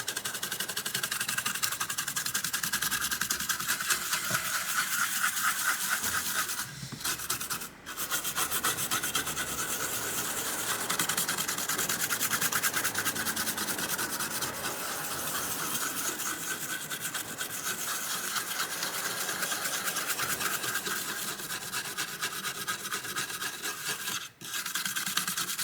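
Steady, continuous toothbrush bristle scrubbing against a liquid-damaged graphics card circuit board, a dense rasping rub that runs almost unbroken for the whole stretch, close and fairly loud.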